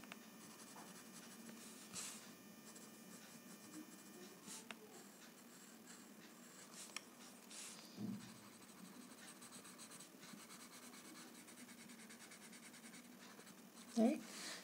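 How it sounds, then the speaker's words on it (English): A graphite pencil scratches softly across paper while shading a Zentangle bookmark, faint, continuous and close, with a few small taps. "So I'm going to add some graphite like this"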